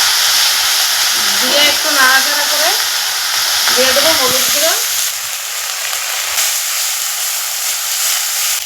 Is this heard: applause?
no